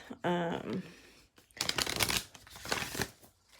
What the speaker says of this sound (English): So I'm going to draw a couple Work Your Light cards.